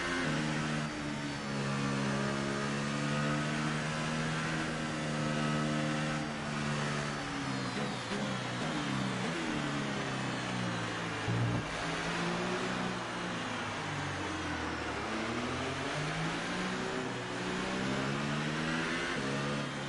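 Several race car engines in a racing video game drone while trailing a safety car, layered tones rising and falling as cars rev and ease off, steady and prominent throughout.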